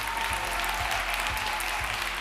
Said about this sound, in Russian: Улыбнитесь друг другу и поприветствуйте друг друга своими аплодисментами.